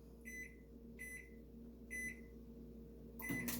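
A microwave oven hums steadily while it melts chocolate fudge, and three evenly spaced beeps sound over the hum before a louder final beep at the end.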